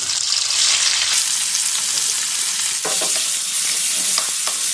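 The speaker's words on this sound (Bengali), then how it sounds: "পেঁয়াজ হালকা ভাজা হয়েছে" Chopped onion with black cumin seeds fries in leftover fish oil, making a loud continuous sizzle broken by scraping stirs and clatter from a spoon against the pan.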